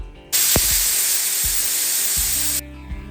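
A pressure cooker whistle vents steam while mutton liver cooks, a loud, close, continuous hiss that lasts about two seconds and then cuts off abruptly.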